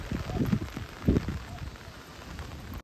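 Rain patters steadily on a surface in the village of Ardesio, Italy, with a few louder bursts of drops near the start and a constant wet hiss.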